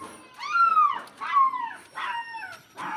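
A newborn puppy, left without its mother and in a bad state, whimpers and yelps in distress: three or four rising-and-falling cries, close and clear, with no talking.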